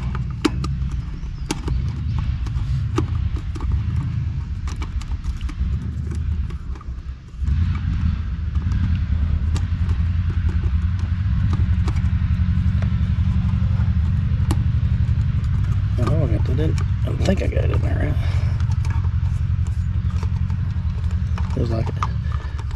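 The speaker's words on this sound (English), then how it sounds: "trying to tune his truck or something, but it sounds awful." A neighbour's truck engine idles roughly and unevenly nearby, a steady low rumble running through the whole stretch with a brief dip, while a person talks over it.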